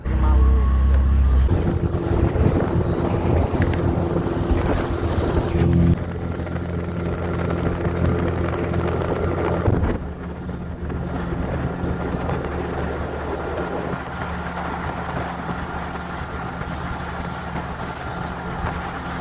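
A speedboat carries passengers from Shahpori Island to Saint Martin's Island, its engine roaring loud and continuous with heavy wind buffeting the microphone throughout, and the tone shifting slightly as the ride goes on.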